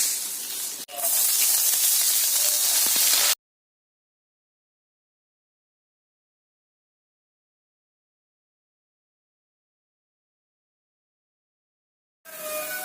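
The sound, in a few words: mustard seeds sizzling in hot oil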